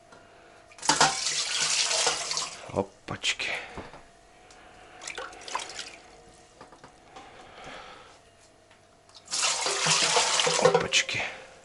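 Spring water from a well pours into a kitchen vessel for home autoclave canning in two close, splashing bursts, one early and one near the end, with quieter handling and a voice in between.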